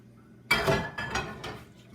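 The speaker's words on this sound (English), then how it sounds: "Stir that all up in there." Eggs being stirred into old-school cornbread dressing in a pan, with a spoon scraping and clinking against the pan in a few quick bursts, close up, after a quiet start.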